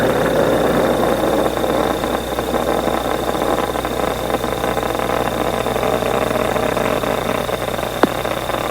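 Space Shuttle Atlantis main engines and boosters thunder during the STS-61B launch ascent, a steady, dense roar with constant low rumble and hiss that never lets up, heard from a distance with no talk.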